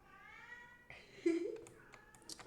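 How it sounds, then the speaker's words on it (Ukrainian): A cat meows a couple of times, fairly close, with some faint background voices and small clicks around it. "Йой, тоді там мурчить."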